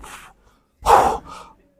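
Breathing during meditation, close and intimate: a soft breath, a pause of silence, then a louder, sharp, airy inhale or exhale and a gentler follow-up breath.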